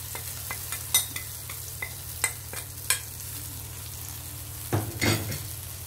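Soft scraping of a spoon through fish curry powder mixed with water in a pot, a few light taps and strokes over a low sizzle, with a louder clatter of stirring near the end.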